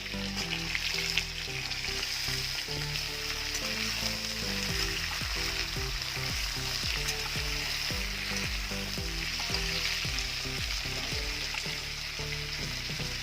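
Beans tossed into a hot pan for a winter vegetable curry give off a loud, steady sizzle and frying crackle, with stirring clicks throughout and no talking.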